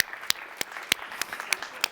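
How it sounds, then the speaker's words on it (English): A seminar audience on medical nonwovens applauds a speaker with sparse, scattered individual claps, fairly close, no voices over them. "ask everybody to applaud you."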